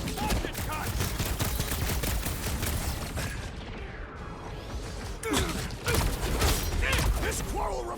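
Rapid bursts of gunfire and mechanical whooshes from a battle in the Guardians of the Galaxy video game, loud and dense throughout with a brief lull mid-way, mixed under in-game voices.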